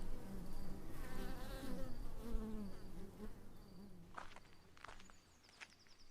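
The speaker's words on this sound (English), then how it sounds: "as I listened to the bees hum their lullaby to the dusk" Bees hum at dusk, a close buzzing drone with wavering pitch that rises and falls as insects fly near, joined later by a few soft scuffs and clicks.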